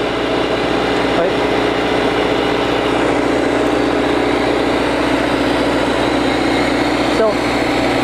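A Power Pallet v5.0 gasifier generator's engine runs with a steady, continuous drone and broadband hum at close range, loud and unbroken throughout.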